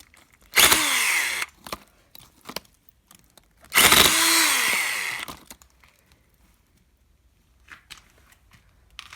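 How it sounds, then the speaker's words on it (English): A hammer drill chiselling mud bursts into loud rattling chisel action twice, each burst a second or so long, separated by quiet scraping and knocks. "This hammer drill is probably a bit over the top for this mud."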